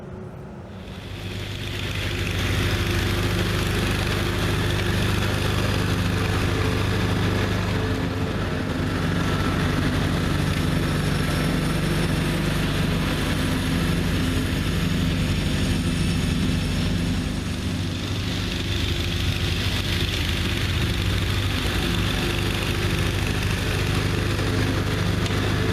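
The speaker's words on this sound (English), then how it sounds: "This one's an earlier model with the B48 Onan 20 horsepower opposed twin engine in it." The Onan B48 20-horsepower opposed-twin engine of a John Deere 420 garden tractor runs with a loud, steady drone that holds close and unbroken throughout.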